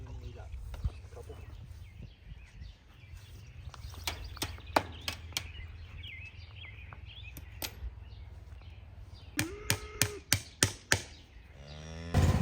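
Cattle on a farm moo in a few separate calls near the end, amid clattering and knocking from the animals moving about, with a person talking to them at intervals over low background rumble.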